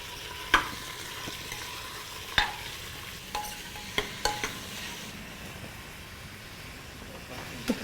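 Mutton stirred into browned onions in a frying pan, with a low steady sizzle broken by sharp metallic clinks and scrapes of the ladle against the vessel at irregular intervals, close and fairly quiet.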